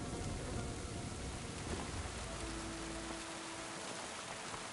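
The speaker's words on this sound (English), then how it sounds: "that lightning sounds so fucking real" Video game Kingdom Come: Deliverance II storm: a dense steady wash of rain with low rolling thunder underneath, fairly faint and without any voices.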